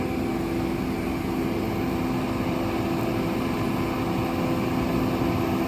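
A 90 HP tractor engine runs at a steady, droning hum with a constant mechanical whine, close by and unchanging throughout, with no talk over it.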